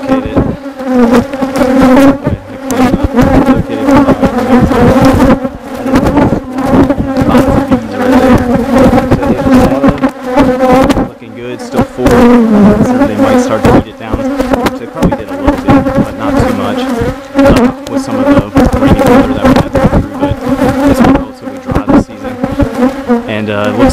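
A strong honeybee colony buzzes loudly and steadily throughout a hive inspection just after a swarm and re-queening, a dense, continuous drone with bees passing close by.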